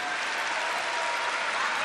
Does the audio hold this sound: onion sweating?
no